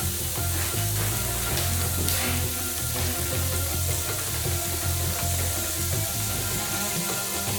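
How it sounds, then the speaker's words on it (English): Onions stir-frying in a pan, a steady loud sizzle with scraping stirs throughout, made while cooking Indian mango chutney. "we need to add our onions into the pan, and we're just going to stir fry those until they're translucent"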